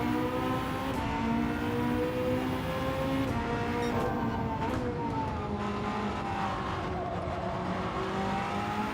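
A BMW Gr.1 prototype race car in Gran Turismo 7 holds a loud, steady engine drone with shifting pitch as it pulls through second and third gear out of corners, with brief tire noise and no talk.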